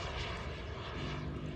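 A 12.5-kilogram radio-controlled model airplane flies during a noon time demo at Joe Nall 2023, its engine giving a steady, loud broadband roar that fills the whole moment with no break.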